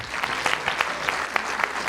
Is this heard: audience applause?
yes